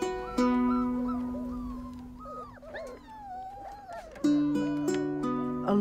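Dogs at a farm for strays whimpering and yipping, long high whines and cries in two close bursts separated by quieter, scattered yelps.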